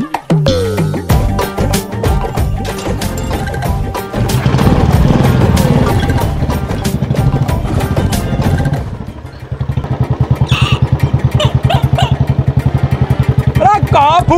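A parked motorcycle's engine runs loudly close by, a dense clattering roar that keeps going throughout, shifting to a steadier, rhythmic idle partway through.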